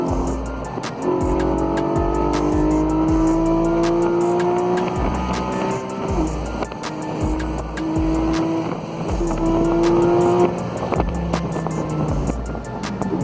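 Race cars lapping a circuit, a C4 Corvette and a C43 AMG Mercedes, with loud engines revving through repeated gear shifts, rising and falling pitch, and intermittent tire squeal.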